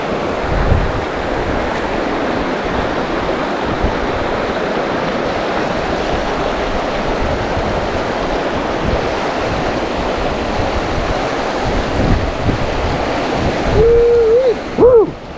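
Bright Angel Creek at the bottom of the Grand Canyon rushes at a fording spot, a loud, continuous close-up wash of flowing water, with a voice breaking in briefly near the end.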